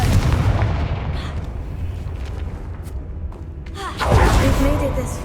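A booming fire explosion from the Confringo spell in Hogwarts Legacy, loud and rumbling, with a second forceful burst near the end over continuous game sound.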